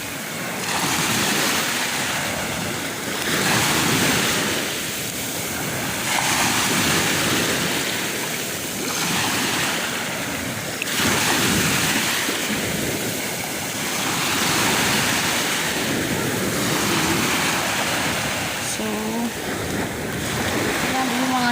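Heavy ocean surf at a beach around 11 a.m. rolls in continuously, waves crashing in slow surges that swell and fade every few seconds, mixed with wind rumble and faint voices.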